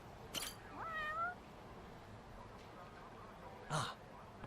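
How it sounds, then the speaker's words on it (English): A cat meows in the video game Judgment, two faint short mews a few seconds apart over a quiet background. "I hear him meow."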